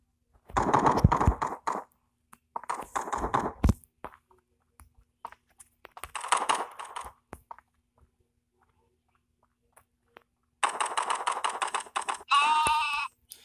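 Sheep bleats from the video game Hide Online come in several short, loud bursts with silent gaps between them, plus brief clicking sounds and a final rising electronic tone near the end.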